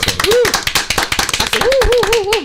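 A small group in a studio claps for an award, sparse close hand claps in an uneven rhythm under overlapping talk and laughter.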